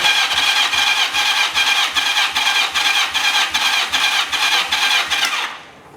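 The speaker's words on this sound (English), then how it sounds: "crank the motor" A four-cylinder Yamaha XJ650 motorcycle engine cranking on the starter with the throttle wide open for a compression test, a fast, even, loud rhythmic whirring that cuts off abruptly at the end.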